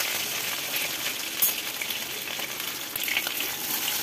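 Potato pieces frying in hot oil for a pumpkin sabzi give a steady, close hiss and crackle with a few brighter pops, continuous throughout and with no voices.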